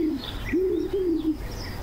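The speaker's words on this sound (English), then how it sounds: "hear the wood pigeon's low repeated call" A wood pigeon gives low, soft coos, two rounded notes in slow succession, fairly close over a quiet outdoor background with faint higher birdsong.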